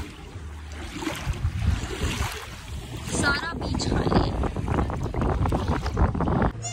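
Surf at a private beach in Baku, with waves pushed up by big passing boats, rolls as a steady wash with wind buffeting the microphone, while people talk over it nearby.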